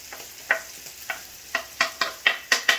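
Green onion being stirred into a frying cornmeal dish, with a soft sizzle under a series of close, sharp scraping strokes that come faster toward the end.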